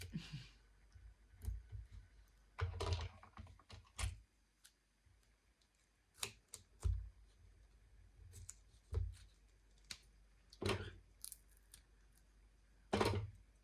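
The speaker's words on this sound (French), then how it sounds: "Avec des ciseaux exprès pour couper l'adhésif, il accroche." Scissors snip through adhesive tape in short, scattered cuts with sticky crackling between them, close and fairly quiet, with pauses between the cuts.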